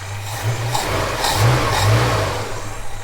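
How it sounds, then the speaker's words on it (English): The engine of a Holden HK car runs after a motor swap, a close, steady mid-pitched hum with a few light rises in revs. "So that's it, motor's in, she's running."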